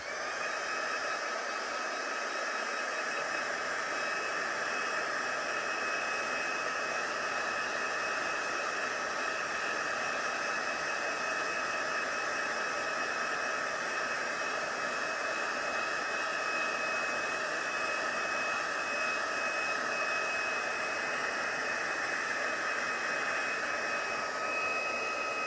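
A hair dryer running steadily to dry red paint on a painted door tag, a constant close whirring hiss with a fixed tonal whine throughout, no speech.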